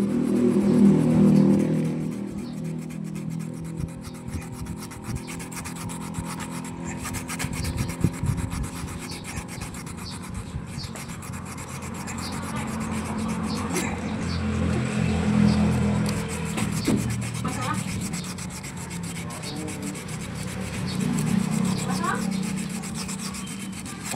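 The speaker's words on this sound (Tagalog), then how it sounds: "So yan ay ating linisan, yung kanyang shafting. Yan, lihain natin." Sandpaper scrubbed back and forth along an electric motor's shaft during a repair of a motor with a worn bushing, a steady, close rasping scrape that continues throughout at fairly even loudness.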